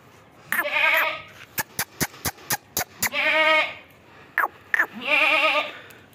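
A milking goat at a home-bred goat market bleats three times, loud and close, with sharp clicking knocks and clatter in the gaps between calls.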